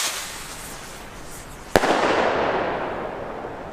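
Lesli Thunder Kong Headbanger salute rocket firing as fireworks: one sharp, loud bang bursts out after a soft hiss, followed by a long rumbling echo that slowly fades.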